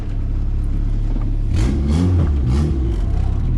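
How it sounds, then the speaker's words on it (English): A turbocharged Integra with a B20v engine, prepped for drag racing, rumbles nearby. Its low engine note swells and rises partway through as it accelerates, with some whirring and no talk. "Yeah, then like the car makes all this kind of noise too"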